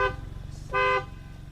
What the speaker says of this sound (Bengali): এটা হচ্ছে হরন বক্স। Horn box. দেখি বাজাও।